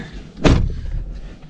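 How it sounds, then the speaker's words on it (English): A truck door slams shut with a single solid, heavy thud, close by, followed by a low rumbling background. "we'll go ahead and close the door."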